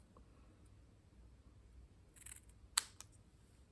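Scissors snip a small card offcut at an angle while a layered triangles card is made, with a couple of soft blade scrapes followed by one sharp close snip and a lighter click in a quiet room.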